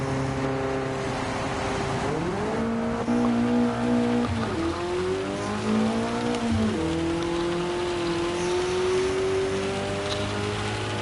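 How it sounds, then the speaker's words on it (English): An old-school BMW engine in the racing video game Gran Turismo 7 drones steadily and loudly in third gear, its pitch climbing and dipping through shifts and revs, with no talking. "Old school BMW. Third gear."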